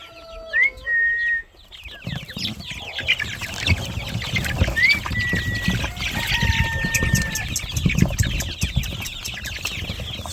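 Rooster and hens on a homestead cluck and call in short bursts over a busy outdoor background of birdsong and rustling.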